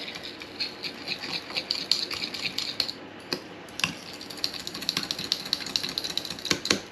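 A dessert spoon rapidly stirs gravy, producing quick, close clicking and scraping taps in a busy, irregular rhythm, with a short pause midway.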